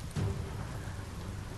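Rain falls in the video game Biomutant as a soft steady patter with a short low rumble at the start, alone without talk.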